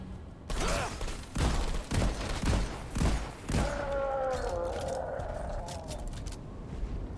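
Video game weapon fire comes as several sharp, loud bursts in quick succession, followed by a ringing metallic whine that fades out, with no talking.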